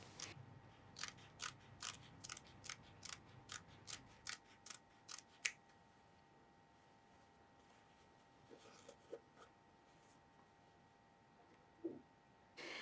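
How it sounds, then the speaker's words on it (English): Scissors cut coat welt pieces in half between the stitching, giving a quick run of sharp, evenly spaced snips up close, then a few scattered fainter cuts against a quiet background. "cut the welt pieces in half between the stitching"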